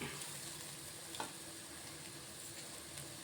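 Bitter gourd and onion fry quietly in a pan, a faint, steady sizzle with one soft clink partway through.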